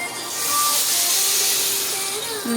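A loud, broad hiss and sizzle as cold water is poured slowly into a hot pan while making wheat rava upma, swelling and holding steady, with a faint tonal ring near the end.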